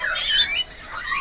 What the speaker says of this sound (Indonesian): Ini jalak kebonnya dewasa-dewasa ya.